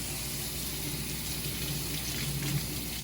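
Food being rinsed under a running kitchen tap during cafe prep, a steady, close stream of water splashing into a sink for a few seconds with no talking.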